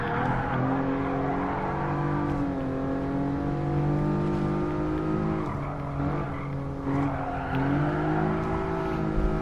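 A Toyota Crown luxury sedan racing in Gran Turismo Sport, its engine droning loud and steady with rising and falling revs and gear shifts, and brief tire squeals through corners.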